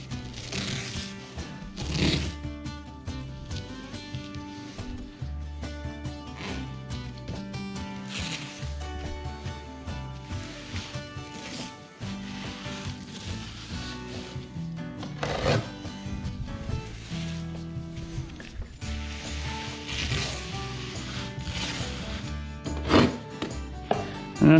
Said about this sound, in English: I'm gonna use this fiberglass mesh tape to tape these seams here.